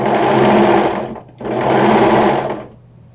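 A sewing machine stitches a fabric pocket in two loud, steady motor-driven runs of about a second each, split by a short pause, close up with no talking.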